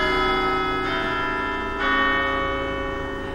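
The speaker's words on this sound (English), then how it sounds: "Ring the bell." A doorbell rung at a house front door gives two ringing chimes, the second starting a little under a second after the first, each tone lingering and fading, fairly clear with no talk.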